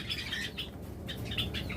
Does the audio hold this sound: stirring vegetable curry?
no